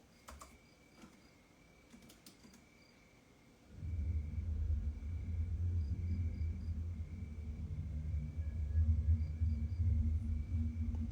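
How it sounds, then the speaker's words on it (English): A deep, steady rumbling background effect swells in abruptly partway through and holds loud and continuous to the end, over a faint earlier bed with a few soft ticks. "we're getting this nice like rumbling background"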